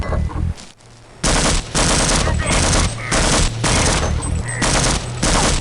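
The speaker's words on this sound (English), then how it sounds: "Go ahead, keep shooting at me." Enemy gunfire in the game Half-Quake Amen comes as loud, sustained bursts of rapid automatic fire separated by brief pauses, harsh and close.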